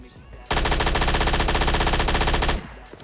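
Automatic gunfire from a weapon in the PUBG Lite video game: a loud, continuous rapid-fire burst of about two seconds, heard alone with brief quiet before and after.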